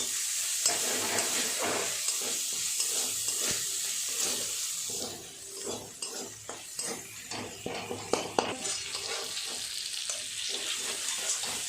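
Chopped tomato with turmeric fries in hot oil in a pan, giving a continuous loud sizzle broken by scraping and clinking stirs throughout, with no talking.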